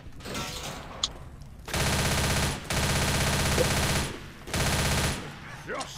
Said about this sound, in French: je tire de en haut, comme ça, je peux reprendre les balles que j'ai utilisées